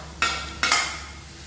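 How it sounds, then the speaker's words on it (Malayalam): Onions and shallots being stirred in a frying pan for Kerala-style pork, two quick, close scraping strokes of a spoon against the pan, each a bright swish fading into a soft background. "നല്ലോണം ഇളക്കുക."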